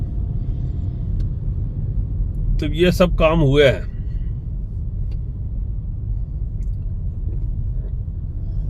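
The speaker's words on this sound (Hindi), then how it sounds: "उधर से ट्रैफिक आ रहा है कैसे, हाईवे की तरफ से मुड़ के" Traffic rumbles on a highway flyover road in Dwarka, Delhi, a steady, loud low drone of passing vehicles beneath a brief spoken remark.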